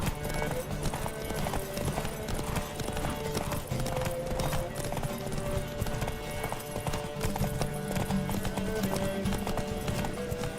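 Roach the horse gallops in The Witcher 3, a rapid steady clip-clop of hooves running throughout over layered game music and ambience, with a brief whinny mixed in.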